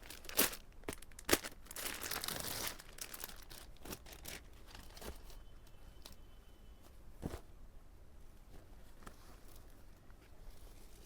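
Packed silk saree being unwrapped at a wholesale saree shop in Kolkata, quiet crinkling and rustling of plastic wrapping in short bursts, close and soft, no talking.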